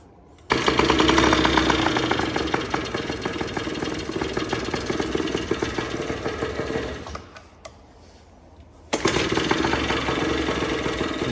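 A small engine idles in the cold, about 20 degrees out on ice, with a rapid buzzing rattle. It runs steadily, dips briefly to a low murmur, then picks back up.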